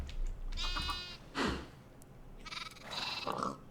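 Sheep in the Minecraft modpack Modern Skyblock 3 bleat several times, with wavering, nasal calls in short bursts separated by brief pauses, fairly close and clear with no talking.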